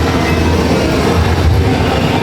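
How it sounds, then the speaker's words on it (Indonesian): A train passes close by with a loud, continuous rumbling roar of rolling wheels and rail noise, steady throughout without voices. "Tutut. Kereta."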